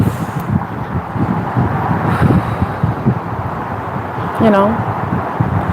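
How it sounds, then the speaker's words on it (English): Gusty outdoor wind buffets a microphone, producing a steady low rumble with bursts of louder flutter underneath a person talking. "Sorry, it's getting very windy."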